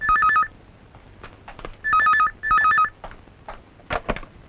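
A telephone rings in three bursts of a trilling electronic bell, loud and close, with short gaps between rings and faint room noise and clicks after the last one.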